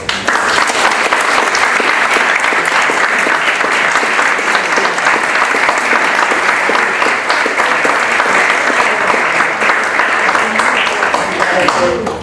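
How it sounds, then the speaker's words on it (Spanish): Audience at a lecture on Spain and the Holocaust breaks into loud, dense applause that holds steady for about twelve seconds without fading. "me gustaría pedir un aplauso para..."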